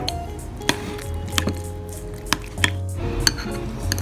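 Tuna sandwich filling with condensed milk and cream being mixed in a bowl: a string of light clinks and scrapes of a utensil against the dish, irregular and close, with a low steady hum beneath.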